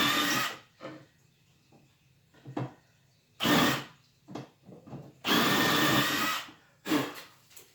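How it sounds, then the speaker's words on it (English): Power drill boring pocket holes through wood with a Kreg pocket hole jig, several loud whirring bursts of varying length separated by quiet pauses, close up. "start your drill facing down and then turn it"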